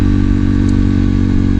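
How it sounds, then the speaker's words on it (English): KTM RC390 motorcycle running with its stock muffler removed, giving a steady, loud, close engine drone with a deep low rumble. "if you notice any difference in the sound of the bike"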